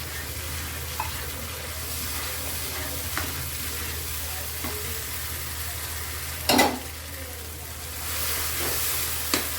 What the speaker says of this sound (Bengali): এবার এটা একটু কষবো।